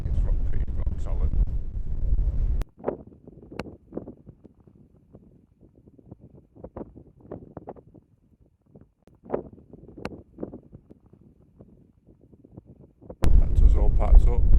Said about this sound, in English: There's about 20-mile winds at the moment, gusts of about 26